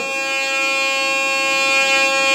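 A steady electronic tone from an Elsan digital metal detector picking up iron, multiple pure pitches humming continuously, slightly rising in loudness, with no talking.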